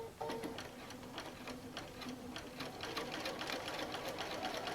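A sewing machine runs steadily, top stitching a bag with a rapid, even mechanical ticking that is fairly quiet and close.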